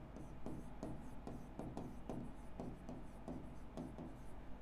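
Chalk or marker strokes rhythmically scraping across a board during a chemistry lecture, a steady series of short rubbing bursts close by with no talk.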